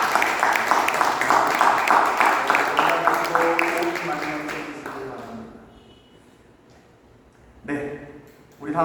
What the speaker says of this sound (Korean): 우리 박수로 우리 분들 축하하겠습니다